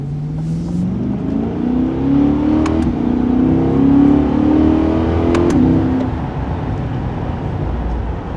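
A 2023 Corvette C8 engine drones and blips through downshifts in manual mode, a continuous close engine note with rising and falling revs over road noise.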